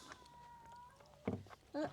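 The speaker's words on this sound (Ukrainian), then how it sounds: "Він мявкав." A cat meows softly a couple of times, with brief quiet background sounds between the cries.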